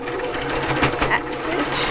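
A sewing machine runs a short burst of back stitching, a fast, even mechanical whir close to the mic, with a voice speaking over it.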